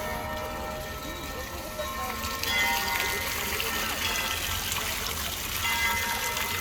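Water spouting from lizard figures on a fountain in Olomouc, heard from a distance as a soft, steady splashing and trickling wash amid faint crowd murmur in an open square.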